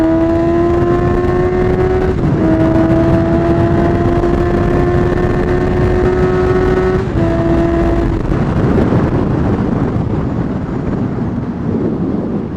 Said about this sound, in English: It accelerates and pulls strong right up through the revs